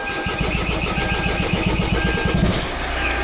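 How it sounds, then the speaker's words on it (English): A car engine cranks with a rapid, even starter chatter for about two and a half seconds, then catches and settles into a steady idle, close and loud. "I'm going to start the vehicle up and see what we get"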